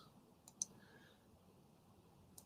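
A computer mouse button gives a few faint, sharp clicks over a quiet background hum, with two sounding close together and one coming a little later.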